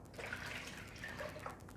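Lukewarm water poured into a bowl for sweet kadayif dough, a soft, steady trickle and splash up close that lasts about two seconds.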